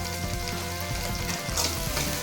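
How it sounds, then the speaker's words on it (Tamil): Onions fry in a pan with a little salt for a drumstick thokku, giving a loud, continuous close-up sizzle with a slight swell near the end and no voices. "இதையும் சேர்த்து நல்லா வதக்கிக்கோங்க இது வதங்கிறதுக்கு கொஞ்சமாக வந்து சால்ட்டு போட்டுக்கலாம்"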